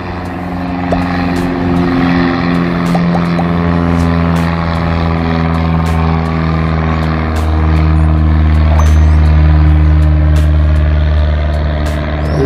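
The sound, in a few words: propeller aircraft taking off at Sorocaba airport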